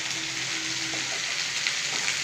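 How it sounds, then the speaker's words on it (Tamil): Onions sauté in oil in a home kitchen pan, giving a steady, close, even sizzle with faint clinks and no talking. "எண்ணெய் ஊற்றி வதக்கிக்கிட்டு இருக்கேன்."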